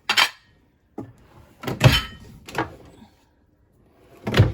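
Drawers on a 2020 Grand Design Reflection 315RLTS RV kitchen island slide open and shut in several separate, close bumps and clacks, with short quiet gaps between them.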